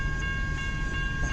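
CN B731 westbound train passing close by in Kimball Township, a loud continuous rumble of rolling railcars with steady wheel noise throughout.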